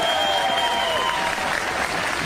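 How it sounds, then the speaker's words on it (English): A live audience applauds the pumpkin carvers at a village event, dense continuous clapping mixed with crowd noise, with a faint whistle-like tone early on. "give a round of applause to all the pumpkin people"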